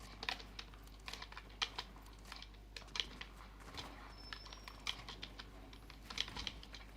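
Someone types quickly on a computer keyboard during a live Fortnite stream, with soft, irregular clacks in quick bursts, close but quiet, over a steady low hum and no talking.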